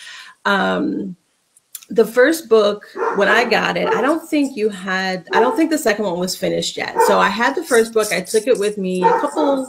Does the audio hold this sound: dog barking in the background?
yes